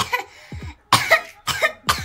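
Several short, harsh coughs in a row, close and fairly loud, with brief pauses between them.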